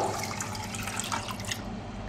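Quiet trickling and splashing of water being poured into milk in a pot, soft and close, lasting a couple of seconds with no talk.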